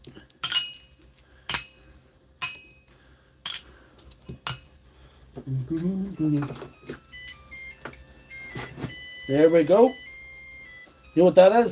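A Makita battery charger sounds a series of short, sharp beeps at an even pace, signalling a full charge after a fix, followed by people talking nearby.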